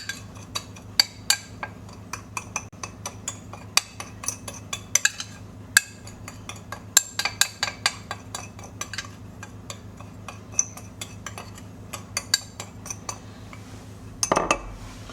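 Fruit tossed with nutmeg and cinnamon in a bowl for a crumble, close irregular clinks and scrapes of a utensil against the bowl over a low steady hum, with a short louder clatter at the end.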